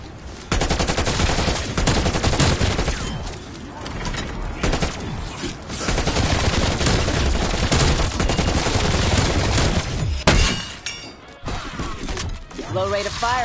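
Rapid gunfire from Call of Duty Cold War Zombies, loud and close: dense automatic bursts and heavy shots packed almost without pause, mechanical clanks and a crash near the end, a voice talking over it.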